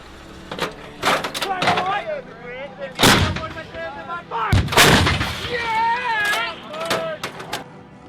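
HIMARS rocket launches and artillery fire from a Ukrainian battlefield: several sharp, loud blasts and booming reports spread over a few seconds, with people talking in between.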